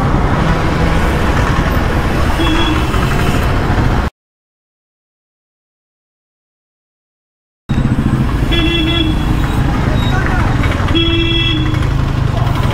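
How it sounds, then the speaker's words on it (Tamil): Heavy road traffic near a cinema in Kallakurichi, with loud passing cars, motorcycles and repeated horn toots close by, cut by a stretch of total silence before the din resumes. "இவ்வளோ டிராஃபிக்கா இருக்கு?"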